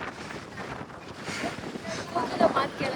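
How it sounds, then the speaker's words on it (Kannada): Breeze buffeting the microphone during a drive in a Thar Roxx near Gopalaswamy Betta, a gusty, uneven wind rush that builds toward the end, with voices talking underneath. "ಸೂಪರ್ ಆಗಿದೆ ವೆದರ್ ಮಾತ್ರ. ಒಳ್ಳೆ ಬ್ರೀಸ್"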